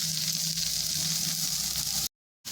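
Shredded cabbage hits a pan of frying onion, ginger and garlic, giving a steady close sizzle of hot oil that continues for about two seconds before a sudden silence.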